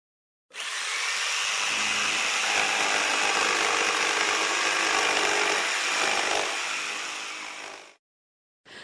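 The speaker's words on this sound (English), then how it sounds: "You have a bandsaw, you have a circular saw, and this one makes this sound." Circular saw cutting through wood, a loud continuous high whining rasp lasting about seven seconds, starting and ending abruptly, close up with no speech.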